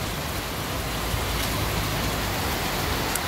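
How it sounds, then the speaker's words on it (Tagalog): Heavy rain pours steadily on a rural farm property during the wet season, a dense unbroken hiss with faint patters, loud and close, and no voices. "Lubog na po sa baha. Tunsod ng malakas na ulan."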